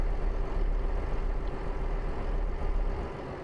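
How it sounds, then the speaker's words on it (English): A steady, loud rumble of a heavy truck engine in Euro Truck Simulator 2 drones continuously, low and even, with no talking. "noise of the truck"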